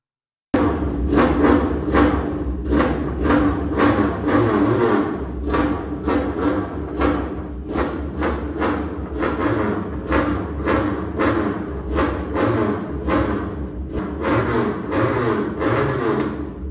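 A Big Bull 400cc Chinese motorcycle engine and exhaust revving, loud and close, with a rapid series of sharp throttle blips and pops repeating over a rumbling idle.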